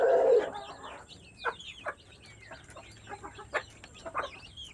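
Chickens cluck in scattered short bursts, some close and sharp, with a louder squawk at the start and soft murmuring between calls.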